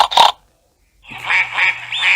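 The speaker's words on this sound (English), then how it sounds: "There are some ducklings stuck on our roof, says Daddy Pig." Cartoon ducklings stuck on a house roof give a short quack, then after a brief silence a run of higher, repeated quacks follows, loud and close.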